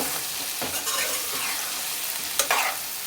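Okra frying in oil gets stirred in a pan, a steady sizzle broken by a few sharp scraping strokes of the spoon, close up with no one talking.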